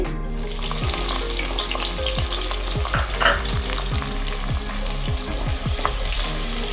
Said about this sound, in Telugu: కొంచెం నూనె, నెయ్యి వేసాం కదా, కొంచెం నూనె అండి. ఉల్లిపాయ ముక్కలు వేస్తున్నాను చూడండి.